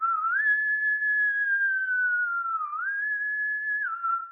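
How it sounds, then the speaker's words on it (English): A boatswain's pipe sounds a single sustained Navy whistle call with gentle pitch rises and dips, held steadily for several seconds, clear and close with no other sounds. "the thing he actually does with that whistle is a very specific Navy call"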